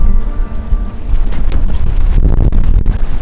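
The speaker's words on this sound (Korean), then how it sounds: "바람 소리가 워낙 커서 제 목소리가 제대로 녹음될지도 잘 모르겠습니다" Strong wind on a 1,400-metre mountain summit buffets the microphone in loud, uneven low rumbling gusts, with no voice heard.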